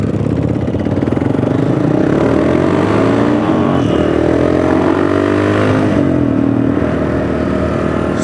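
A Yamaha Bolt motorcycle, 900 or 950 cc, Kenny Roberts edition, rumbles steadily nearby, its engine loud and continuous with slight rises in revs and no talk over it.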